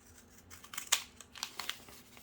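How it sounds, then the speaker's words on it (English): Zigzag scissors cut through a paper candy wrapper for a Twix bar, making a few crisp snips and crinkles in short bursts, close and fairly quiet. "Okay, then I'm going to use my zigzag scissors"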